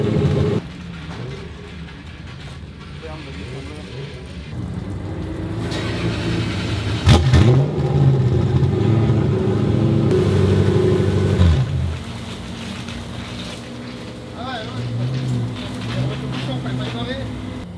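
A drift car's V8 with an aluminum block revs in bursts between idle stretches, the engine rising and falling a few times at close range while people talk over and around it.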